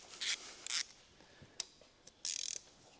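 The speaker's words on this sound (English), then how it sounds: "I'm using the Harbor Freight sockets that I never use" Quiet, close ratcheting from a Harbor Freight socket ratchet turning a bolt while installing a turbo kit on an NC Miata: short bursts of rapid clicks separated by small taps and pauses.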